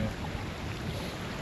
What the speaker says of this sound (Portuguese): Meu Deus, tá muito vento, né?